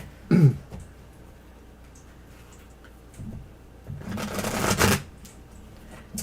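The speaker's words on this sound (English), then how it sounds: "And I'm shuffling." Tarot cards riffle and slap together in a short burst, then a longer shuffle follows after a quiet pause, close and moderately loud.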